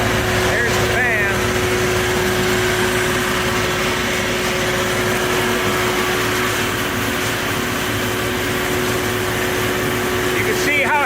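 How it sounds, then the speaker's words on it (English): An air curtain burner's fan, fed by an excavator, running with a loud, steady drone and a constant hum, close by, while someone talks over it at the start and the end. "There's the fan."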